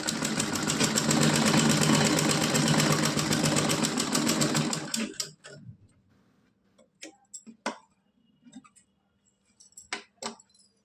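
A sewing machine runs continuously for about five seconds, double stitching a Laddu Gopal dhoti kurta dress, then stops and gives way to scattered clicks and short handling noises.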